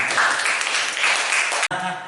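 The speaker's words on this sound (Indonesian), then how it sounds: "tepuk tangan dong" Audience applause at a chemistry teaching-practice presentation, a dense steady wash of clapping for about a second and a half that cuts off abruptly, followed by a brief voice.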